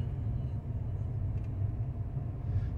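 Low, continuous rumble of cars idling and creeping in held-up traffic near Rosarito, a steady muffled engine drone without talk.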